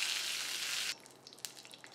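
A tadka of curry leaves and asafoetida sizzles in hot oil, a loud close hiss for about a second that stops sharply, followed by faint crackles and drips.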